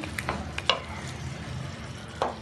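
Taro root pieces stirred with masala in a pan give a soft, steady sizzle, broken by a few brief scraping clinks of the spoon against the pan, close and moderately quiet with no voices.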